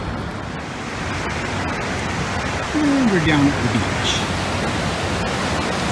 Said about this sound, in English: beach. Surf's up good.